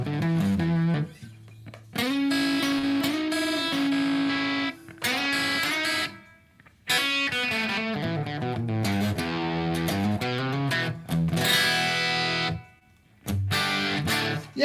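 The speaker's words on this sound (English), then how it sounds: "It's called the Heavenly pedal by UA. And it's literally their reverb plugin." Guitar chords and notes ring out in phrases through a UA Heavenly reverb pedal, with a wash of reverb trailing into brief gaps, heavy and slightly distorted, with no talking.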